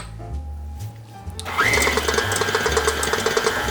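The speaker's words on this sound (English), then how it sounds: "Always make sure that your mixer is on first speed before you get started" A stand mixer with a paddle attachment starts up on first speed, making pâte à choux dough: quiet handling noises, then a steady, close motor whir and rhythmic churning from about the halfway point onward.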